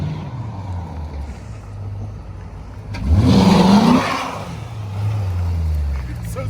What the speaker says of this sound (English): burnouts in a wrecked car